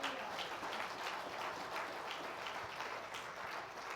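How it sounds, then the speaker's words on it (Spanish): Church congregation applauds in a steady, dense wash of clapping that stays even and moderately loud throughout, with no clear voices. "Denle un aplauso a Jesús."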